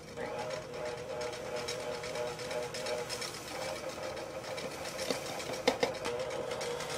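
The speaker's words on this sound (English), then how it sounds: "reduce the speed of your machine, add the sugar gradually." An electric mixer whirs steadily while beating a meringue as maple sugar is added, a constant mechanical hum close by with a couple of small clinks near the end.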